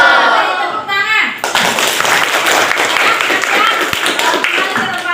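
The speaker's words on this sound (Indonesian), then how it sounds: "Beri tepuk tangan." Schoolchildren in a classroom burst into loud, dense hand clapping after a brief moment of voices, the rapid claps continuing steadily to the end.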